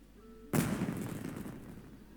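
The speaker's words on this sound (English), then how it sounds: "Was that an explosion? It sounded like fireworks." A fireworks explosion in the video game Genshin Impact: a sudden loud boom after a quiet moment, followed by a crackling, rumbling decay that fades over about two seconds.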